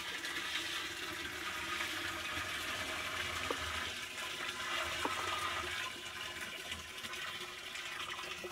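Hot water pours steadily into sugar to make a one-to-one syrup for feeding bees, a continuous rushing gush throughout, fairly close and moderately loud.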